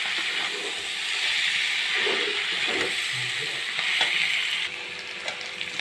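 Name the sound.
cabbage frying in oil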